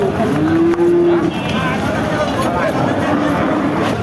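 A loud, drawn-out bullock moo sounds close by at a cattle market, followed by a busy outdoor hubbub of crowd noise and distant voices.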